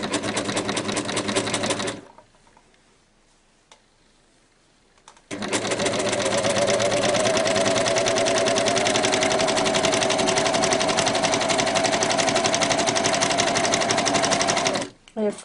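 A coverstitch machine sews a hem on leggings, its loud, fast, steady stitching running close for about two seconds, then a pause of roughly three seconds, then a longer unbroken run of nearly ten seconds.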